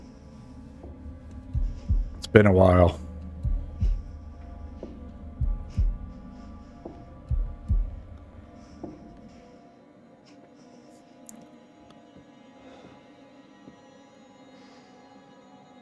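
In the video game The Devil in Me, a low, throbbing heartbeat pulses in a steady rhythm over a background hum, fading out partway through, while someone talks briefly.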